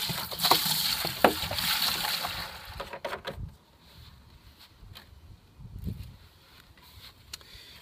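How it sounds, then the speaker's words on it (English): Water poured from a container into a camping trailer's fresh water tank, a loud sloshing gush for about three seconds, then quieter trickles and faint knocks. "I simply just dump the water in here."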